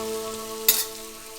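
Tilapia fish pieces sizzle as they are stirred into hot spiced oil in a pan, a quiet steady hiss with one brief louder spatter near the middle.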